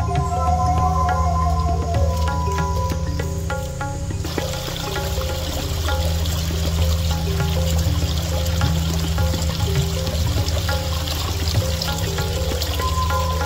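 Water pours steadily with a rushing splash that starts partway in, while music plays underneath the whole time.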